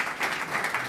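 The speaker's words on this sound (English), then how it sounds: "A round of applause for Rambo." Applause from an audience at a surgeons' meeting in New Orleans, a steady wash of many hands clapping for about a second at moderate loudness, with no speech over it.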